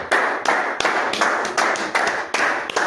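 Church congregation clapping in praise, a fast steady rhythm of loud, close unison claps, roughly three per second, with no talk over them.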